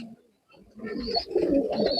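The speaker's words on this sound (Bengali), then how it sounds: "যে জাবরা কবুতরটা দেখতে পাচ্ছেন এটা আমার ব্রিডার নর" Proven breeder male racing pigeons in a loft coo in deep, throaty rolls that start after a brief near-silence, then swell close and fairly loud with a faint higher chirp above them.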